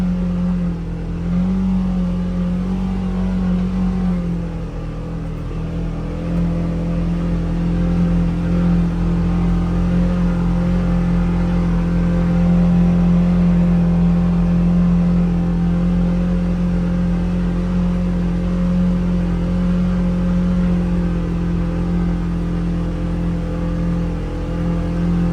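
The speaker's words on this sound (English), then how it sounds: "Once it gets up in the RPM, it is louder." A 2024 Polaris Xpedition side-by-side runs in four-wheel drive at high RPM, its engine holding a loud, steady droning hum throughout with no talking.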